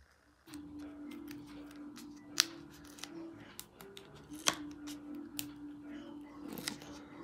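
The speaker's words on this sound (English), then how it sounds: "I'm just going to peel the backing off of all of these." Backing paper being peeled off small adhesive pieces during card making, giving a series of close, crisp crackling rips and ticks at irregular intervals over a soft steady hum.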